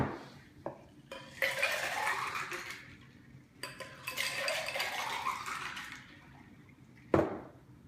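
A blueberry tangerine margarita with limeade being stirred: a spoon or stirrer clinks and swishes against glass in two long bursts of liquid swirling, with a bright knock near the end, close and moderately quiet.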